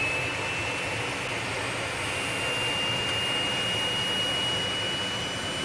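A jet aircraft engine spools up in the construction sim Machine World 2, a steady loud roaring whoosh with a thin high whine held throughout, alone without talk.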